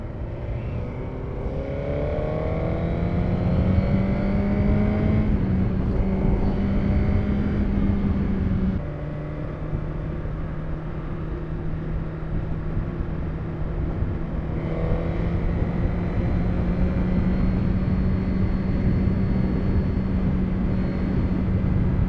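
A car engine drones steadily while the car drives in fourth gear on a windy, chilly day in traffic, with shifting pitch as the speed changes. The engine is close and continuous, with no talking.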